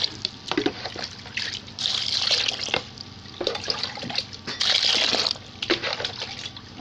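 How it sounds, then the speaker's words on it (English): Water poured from a tap over beans in a bowl as they are washed, giving a steady splashing, trickling flow in several surges, close and fairly loud, with no talking. "I will add water to cover the beans."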